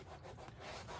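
A shoe's rubber sole is scuffed with sanding grit before priming, giving a steady, continuous close-up rasping rub that runs the whole moment without pause.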